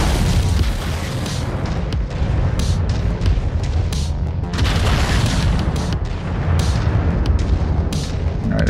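Heavy mech weapons firing nonstop in MechWarrior 5, a dense roar of booming, artillery-like blasts layered over a constant low rumble, loud and close throughout.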